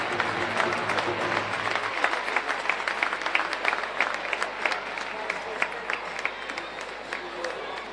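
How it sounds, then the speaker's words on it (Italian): An audience at a Serie A1 roller hockey match applauds, a dense, sustained clapping that holds throughout, with an announcer's voice briefly over the start. "Facciamo ancora un grande applauso."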